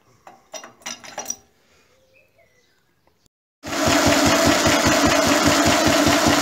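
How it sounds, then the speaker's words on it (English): A Lister D diesel engine with a repaired crank and a new fuel pipe starts after some clattering handling noises, then idles loud and close with a steady rhythmic thump. "listen to that nice idle"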